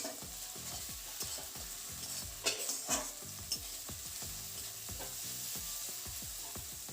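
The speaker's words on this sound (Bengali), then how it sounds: "এখন কিন্তু এই মশলাটাকে ভালোভাবে কষিয়ে নিতে হবে" Ginger-garlic paste sizzles in a pan for a rohu fish, cauliflower and potato curry, stirred with quick rhythmic scraping strokes over a continuous close fry.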